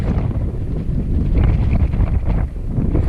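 Strong gusty wind at Barney Lake on the Duck Pass Trail near Mammoth buffets the microphone in a continuous low roar, with no other sounds standing out.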